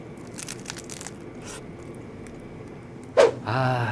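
Someone eating lunch, likely a triangle rice ball from a convenience store, making a few quiet crunchy bites early on, then a louder sharp crunch followed by close rustling, with faint background noise.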